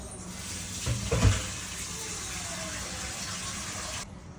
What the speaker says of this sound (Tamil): இப்போ நான் தண்ணி எடுத்துகிட்டு வரேன்